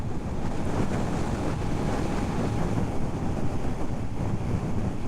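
A high, fast-flowing river seen on the Lightspout Waterfall hike gives a steady, loud rush of water, mixed with gusty wind buffeting the microphone, with no voices.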